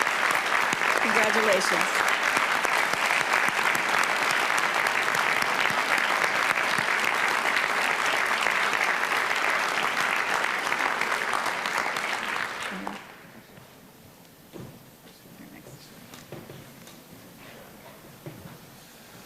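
An audience at a university fall convocation applauds graduates rising in recognition, loud, sustained clapping for about thirteen seconds before stopping, followed by quiet room sounds, a few scattered claps and a brief spoken word.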